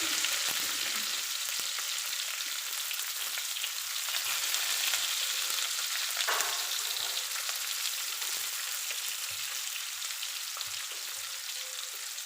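Onions fry in a pan for a vegetable dal, with a steady, bright sizzle that continues evenly for about twelve seconds and no voices over it.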